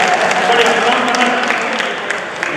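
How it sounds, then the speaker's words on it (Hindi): An audience gives loud, dense applause for a child at a Hindi comedy show, a steady wash of many hands clapping close by that tapers slightly toward the end. "एक बार जोरदार ताली बच्चे के लिए बजाए"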